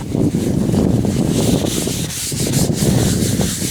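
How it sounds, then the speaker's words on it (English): Oil-soaked wooden cutting board being wiped down with a cloth, a steady close rubbing and scrubbing sound that continues loud and unbroken with no voices. "now you're going to start wiping off the excess"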